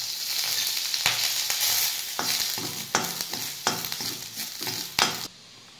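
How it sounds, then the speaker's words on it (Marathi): Green chillies roast in a little oil in a pan, a steady close sizzle broken by about seven sharp scrapes and knocks of a stirring spoon, with no voices. "आता मिरची भाजून घेऊ, थोडंसं तेल टाकून"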